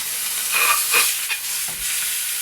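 Stuffed calamari sizzle in a hot pan with a little olive oil, a bright, loud hiss close by that swells briefly as pieces go in.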